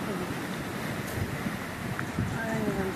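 Cyclone wind and crashing waves heard from a hotel room terrace in Mauritius, a steady, dense roar of wind and surf that keeps going throughout with no clear breaks.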